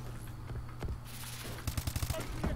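Rapid automatic gunfire from a video game, a burst of sharp repeated shots late in the clip over a steady game soundscape, with no talking.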